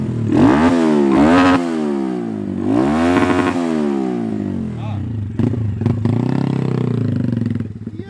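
A Honda Grom motorcycle running on race fuel with a lithium battery revs hard several times in rising and falling sweeps, then settles into a rougher, clattering idle, loud and close.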